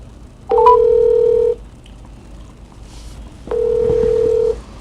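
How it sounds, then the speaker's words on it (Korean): Two sustained telephone tones sound in turn, each a steady beep lasting about a second with a quiet pause between them, clear and close on a line before a call connects. "제가 한번 전화를 걸겠습니다."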